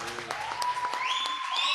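Scattered clapping from a church congregation at a Pentecostal service. It sounds faint and thin under a sustained musical tone that rises in pitch midway.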